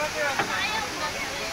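A waterfall roars as a broad, steady rush of falling water, loud and close, with a brief knock near the start.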